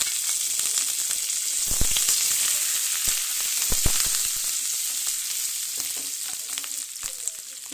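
Green chilies and curry leaves sizzle steadily in hot oil for pumpkin palya, a constant close frying hiss with a few soft stirring knocks and no talking.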